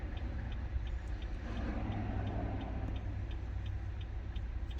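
A Nissan's four-way hazard flashers tick in a regular, faint clicking rhythm inside the car, over a low rumbling engine idle.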